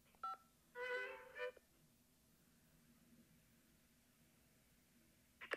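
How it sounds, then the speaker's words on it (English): Keypad button tones from an audio tour at Oakland Cemetery: a couple of short beeps, then a longer cluster of tones, faint and separated by quiet hiss. "Enter the number on the keypad of the stop you wish to learn about."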